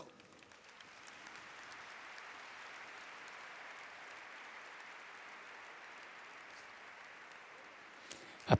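An audience at a Neocatechumenal gathering applauds the Paris community with steady, dense clapping that holds evenly throughout, fairly soft and diffuse, ending with a sharp louder knock.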